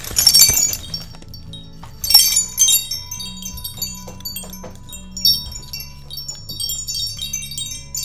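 Metallic chimes hanging from a solid wood top ring and clink in scattered bursts, bright tones shimmering and decaying, with a low steady hum underneath.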